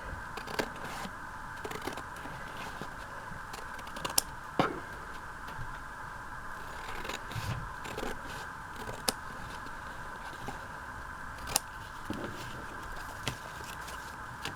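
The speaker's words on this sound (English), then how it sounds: "Now I'm just going to cut them." Scissors snipping through pre-collaged book pages, a series of faint, irregular crisp cuts over a steady background hum, with no talking.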